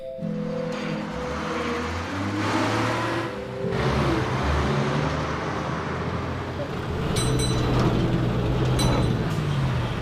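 A bus slowing to a stop on the road, its steady low engine rumble and road noise running throughout, swelling slightly near the end, with a faint high tone and no clear talk.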